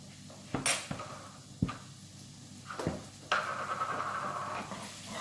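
Cumin being stirred into a chicken tagine in a pot: a spoon clinks and scrapes against the metal in several distinct knocks, followed by a steady sizzle, close and fairly quiet.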